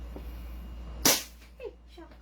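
A single sharp shot from a Godfather 6.0 airsoft pistol, loud and close, preceded by quiet background noise and followed by brief voices.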